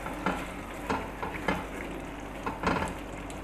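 Kabab masala karahi is stirred in a sizzling pan, with a steady fry hiss and periodic scraping strokes of a spoon against the metal, close and moderately loud.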